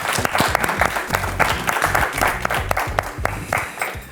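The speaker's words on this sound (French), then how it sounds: "On peut applaudir." Studio audience applause on a French game show, steady clapping for about four seconds with a few voices mixed in.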